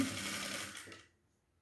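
A sewing machine stitching the finished neck of a kurti top gives a brief steady mechanical whirr that stops abruptly about a second in and leaves near silence.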